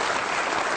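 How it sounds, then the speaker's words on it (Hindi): A television comedy show's studio audience bursts into dense, steady applause, loud and continuous for a brief moment. "बहुत सारी तालियां मुशाहिदुल्लाह खान के लिए।"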